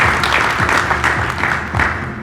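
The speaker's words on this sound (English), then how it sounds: "give yourselves a round of applause." An audience at a design-concept unveiling celebration gives a dense, continuous round of applause, with the clapping steady and close throughout.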